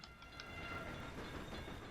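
A train in the Railway Empire video game rumbles along in a steady broadband roll, with a few faint high chimes near the start and a constant background hum; no voices are heard.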